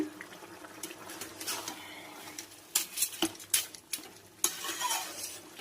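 A sweet mixture with rock sugar is stirred in a pot, a utensil scraping and clinking against the metal in irregular bursts, louder toward the end, with a faint simmer underneath.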